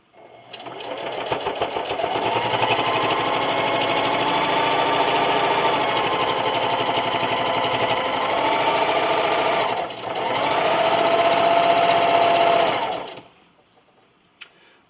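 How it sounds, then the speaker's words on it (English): A sewing machine stitching fabric for a rolled silverware holder, running as a loud, steady, close whir for about twelve seconds, with a brief dip midway before it resumes and then stops. "I'm going to raise my presser foot and spin. And just keep sewing."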